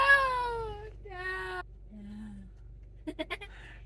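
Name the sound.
goats bleating while being wrangled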